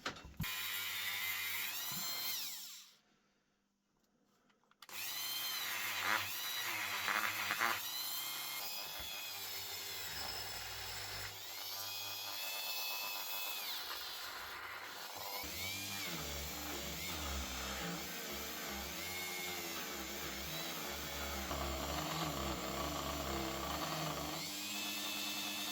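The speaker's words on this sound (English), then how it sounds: "I'm going to be using this Dremel and soft brushes" A Dremel rotary tool fitted with soft brushes whirs while cleaning parts of a Ward & Steele pocket flintlock pistol, its high buzzing whine shifting in pitch as it presses against the metal, briefly stopping early on and then running steadily.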